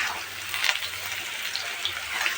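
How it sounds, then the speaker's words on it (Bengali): Potatoes and onions sizzle steadily in hot oil in a pan while soybean khichuri is being cooked, a close, continuous frying hiss with faint crackles and no talking. "এই আলুটা আমি ভেজে নিলাম, এবার পেঁয়াজটা দিয়ে দিলাম"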